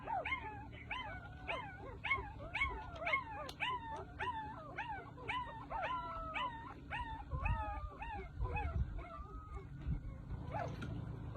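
Puppies yipping and whimpering in a rapid chorus of rising cries near the listener, fading toward the end, with low rustling underneath.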